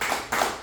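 Church congregation clapping hands in unison at a worship service, three broad rhythmic claps in quick succession, moderately loud.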